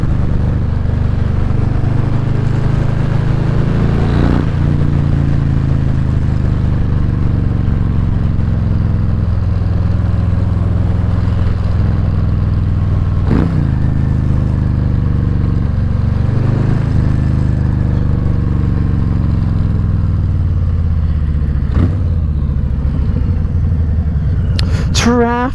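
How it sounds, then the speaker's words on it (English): A 2021 Harley-Davidson Street Bob 114 motorcycle hums along steadily on the road, its engine giving a continuous low rumble with a few passing shifts and traffic swells, and no talking. "I'm gonna shut up for a second and just let you hear the bike just doing its thing"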